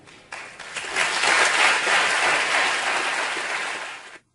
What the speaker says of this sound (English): that was the only applause he got in his entire speech